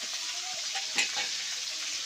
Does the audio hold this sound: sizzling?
yes